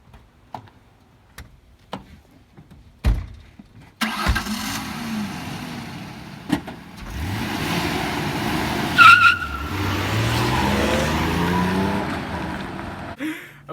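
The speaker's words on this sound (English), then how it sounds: "Rolls Royce, supercharged engine, custom job." Supercharged custom Rolls Royce engine starting, then revving hard as the car pulls away with tires skidding and squealing, a loud continuous roar lasting several seconds after a few sharp clunks.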